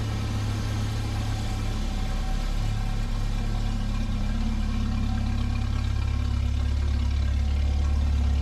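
A Jeep YJ engine idles steadily with a low, throbbing rumble, continuous and fairly close, with a slight change in tone near the end.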